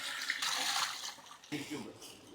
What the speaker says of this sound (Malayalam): വെള്ളം ഒഴിക്കട്ടെ മൂന്ന് ജഗ് വെള്ളം ഒഴിക്കാം